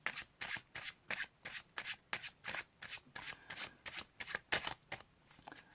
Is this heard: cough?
no